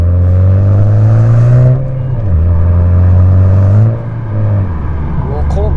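Honda Civic FK7 with a custom-tuned ECU accelerating on an empty road, heard from inside the cabin as a loud steady engine drone that climbs in pitch, drops with each gear change and then climbs again.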